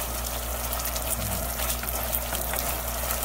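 Pork salpicao sauce with Worcestershire simmering in a pan, a steady bubbling, hissing wash that holds evenly throughout with no talk over it.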